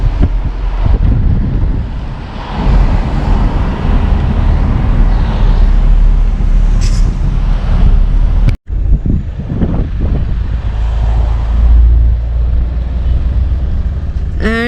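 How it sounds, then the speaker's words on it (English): Road traffic in Solang Valley, Himachal Pradesh: a steady low rumble of passing vehicles and wind buffeting the microphone, heard close and continuous with a brief dropout midway and no talk. "And the traffic of Solang Valley begins."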